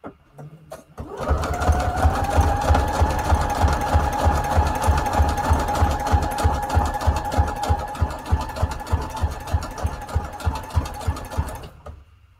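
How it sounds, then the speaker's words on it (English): A sewing machine runs a zigzag stitch at default settings while making junk journal tags, a rapid, steady mechanical chatter after a brief start, close and continuous before stopping near the end. "We're going to do a zigzag stitch, default settings."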